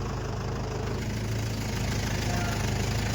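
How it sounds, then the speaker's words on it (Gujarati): A tractor engine runs in a farm field in a steady, loud low drone with a faint rhythmic knock, continuous over a brief stretch. "અમારા અજયભાઈ ટ્રેક્ટર હાકે છે."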